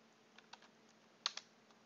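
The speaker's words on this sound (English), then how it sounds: "And typing my message" Quiet computer keyboard typing while whispering a chat message in the game Dire Days: a handful of sparse, light key clicks ending in two sharper taps close together, near and faint, with no talking.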